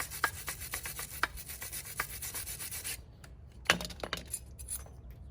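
Repeated scraping and rubbing strokes as rust buildup is cleaned off the brake hub of a 2008-2014 Cadillac CTS before a new rotor goes on, steady close-up rasping that thins out and turns patchier toward the end.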